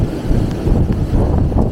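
Strong wind after an arctic cold front in Harlan, eastern Kentucky, roaring loudly and continuously against the microphone in low buffeting gusts, with no voices.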